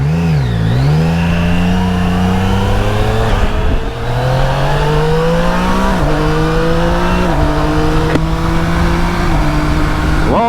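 A Yamaha Niken GT three-wheeled motorcycle accelerates hard through several gear changes, its engine note climbing in pitch, dropping at each shift, then rising again, loud and close with no voices.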